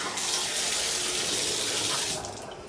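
Water rushing from a Kaqinu high-pressure rainfall shower head, a loud steady hiss of spray that continues close by and then eases slightly near the end.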